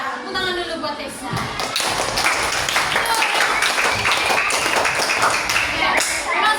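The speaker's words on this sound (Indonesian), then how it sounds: "tepuk tangan dulu buat Tessa" A small classroom group claps for a student, giving a few seconds of scattered, close hand claps with a voice speaking over them.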